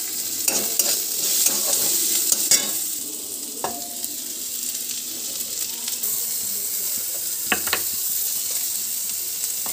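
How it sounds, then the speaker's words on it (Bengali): Onions frying in hot oil in a kadai give a steady sizzle through the whole stretch, with a few sharp clinks and scrapes of stirring over the top and no talk. "কড়াইতে একটু তেল দিয়ে দিলাম, ঠিক আছে। কড়াইটা গরম হয়ে গেছে, পেঁয়াজ দিয়ে দিলাম।"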